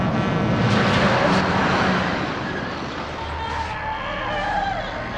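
A truck roars past in The Texas Chain Saw Massacre, a loud, rushing engine and tire noise that swells, then fades out.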